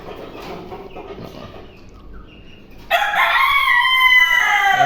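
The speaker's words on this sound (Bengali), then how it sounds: "এখানে মুরগি বাচ্চা তো এখন বলা যায় না, প্রায় প্রায় বড় হয়ে গেছে।" Nearly grown chickens, both hens and young roosters, cluck softly at first. Then a rooster bursts into a loud, close, sustained crow.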